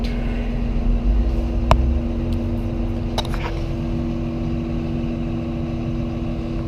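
Cat bulldozer engine held at full throttle, a steady loud drone with a constant low hum running unbroken throughout, punctuated by a few faint metallic clanks.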